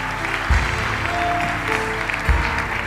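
A church congregation claps and cheers in acclaim of the Lord, a steady wash of applause with louder swells near the start and again toward the end.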